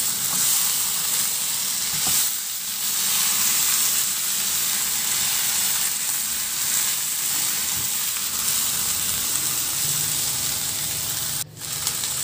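Pork hock (pata) and onion sautéing in a pan, a steady loud close sizzle with faint stirring and a brief clatter near the end, no talking.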